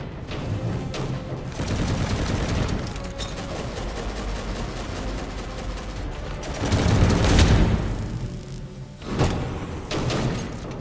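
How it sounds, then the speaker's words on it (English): Turret gunfire in the sci-fi combat game Angels Fall First comes as bursts of rapid shots and heavy thuds, loud and dense, with a surge of fire midway and a brief lull before it resumes. "Oh god, that's a turret."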